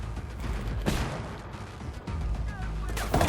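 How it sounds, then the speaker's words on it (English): A flashbang grenade goes off in a tactical shooter game during a building assault, a loud booming blast over dense rumbling gunfire and echoing noise, with a voice talking over it. "Throwing a flashbang."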